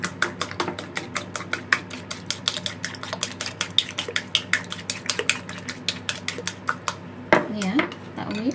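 Rapid, steady clinking of a whisk against a bowl, mixing a sauce with oyster sauce and black pepper for an eggplant dish, close and crisp for most of the clip, then briefly stopping before a final knock and a short voice.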